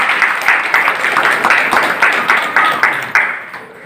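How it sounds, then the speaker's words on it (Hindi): Audience applause at a weekly Sarna prayer meeting of a tribal cooperative society in Ranchi, India, a short burst of quick, close, somewhat uneven clapping from a modest crowd that fades out at the end. "बहुत हौसला दादा के लिए तालियां तो हो जाए कम से कम।"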